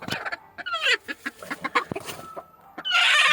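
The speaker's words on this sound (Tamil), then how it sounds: "இந்த கூட்டுக்குள்ளே ஒரு கோழி கிடக்கு" A native country hen clucks in a short series of sharp, nearby calls from inside a coop, followed by a burst of bright, hissy noise at the end.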